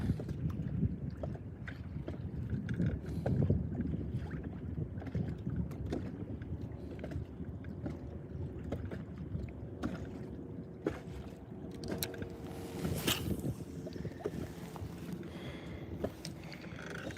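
A fishing boat's trolling motor runs on open water during a bass-fishing outing, a steady low churning hum with wind buffeting the microphone throughout and no talking.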